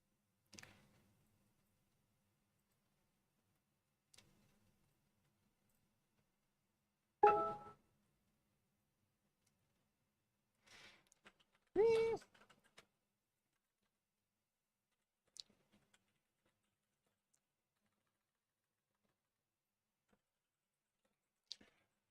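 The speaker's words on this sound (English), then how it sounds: "I can tell Mandy's not used to my keyboard" Sparse clicks and taps from typing on a computer keyboard, heard faintly from a distance through a desk microphone, with two louder bursts of rapid key presses and long quiet gaps between them.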